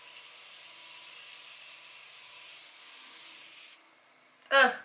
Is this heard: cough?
no